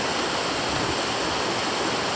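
A river at a backwoods cabin flows steadily, a continuous broadband rush of water close by with no pauses or voices.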